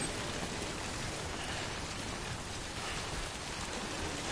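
Steady, dense rainfall from the video game Death Stranding fills the whole stretch at an even, close level with no talking.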